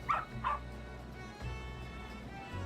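A pup in Final Fantasy XIV gives two quick, close yips, followed by quiet game ambience.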